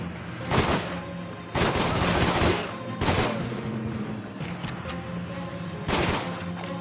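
Gunfire in The Stalin Subway, a first-person shooter set in the Moscow metro, comes as several loud bursts of shots over a constant rumbling background, spaced unevenly across the stretch, with no talking.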